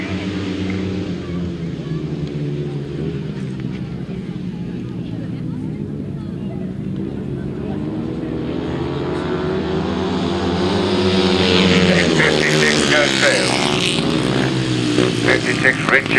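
Grasstrack motorcycles in a pairs race pull away at the start, a loud, dense engine roar that rises and swells, with a commentator's voice over it.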